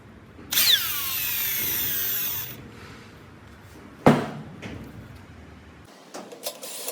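A power drill boring into wood for a boat tackle box seat, a two-second whining burst of drilling followed by a sharp knock and some small handling clatter.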